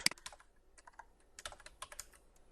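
Quick, uneven keystrokes on a computer keyboard as a folder name is typed, crisp close clicks arriving in short bursts with brief pauses between them, no voices present.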